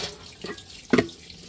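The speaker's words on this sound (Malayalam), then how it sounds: "വെള്ളം ഇട്ടു." Water is poured into a pot of spiced beef trotters, heard as a soft trickle that ends in a single short splash.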